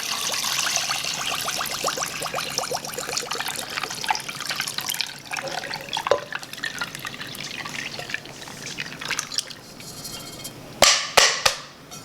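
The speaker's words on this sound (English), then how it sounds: "I'm going to pour this brine right over this chicken and the ice." Brine is poured from above over raw chicken and ice cubes for fried chicken, making a steady splashing, trickling pour that tapers into drips, then a few sharp knocks near the end.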